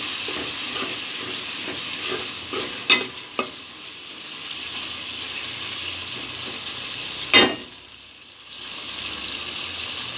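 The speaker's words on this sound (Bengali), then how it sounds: "চিংড়ি মাছগুলো ভালো করে কষিয়ে নেব," Prawns sizzle in a pan with spices, steady frying hiss broken by several sharp scrapes of a spoon stirring against the pan, close and clear with no talk.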